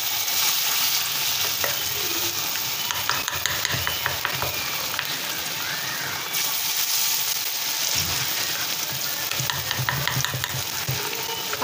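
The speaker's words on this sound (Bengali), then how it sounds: "এবার বড়াগুলোকে ভেজে নেব।" Pea lentil fritters (bora) of mixed batter with green chilli, onion and salt deep-fry in mustard oil with a steady, dense sizzle, broken now and then by soft stirring scrapes, and no one talking.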